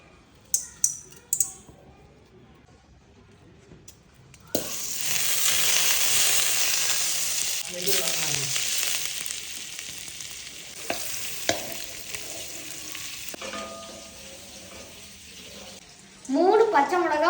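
Butter hits a hot pan and bursts into a loud, close sizzle that holds steady and slowly fades, with a few clicks and utensil taps before and during, and a brief voice near the end.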